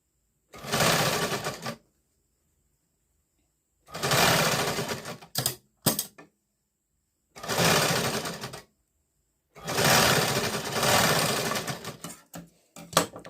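A sewing machine stitches a seam on a katori blouse in several close, loud bursts of fast clatter, separated by silent gaps and a few brief clicks, with no talking.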